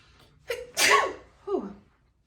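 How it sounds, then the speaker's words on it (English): A single close, loud human sneeze with a short sharp intake of breath, an explosive burst, then a brief exhale, in an otherwise quiet room. "I gotta sneeze."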